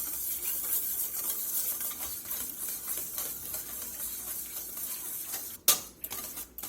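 Egg yolk whisked with melting butter in a bowl held over low heat: continuous fast, close scratchy whisking with a faint sizzle beneath, broken by one sharp knock near the end, and no talking.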